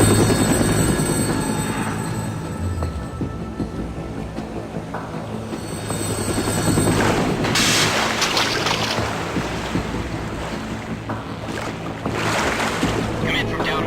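Helicopter approaching over the ocean in Metal Gear Solid 2, a loud, continuous rotor chop and engine roar mixed with wind and sea noise that swells as it draws nearer, with radio voices talking over it.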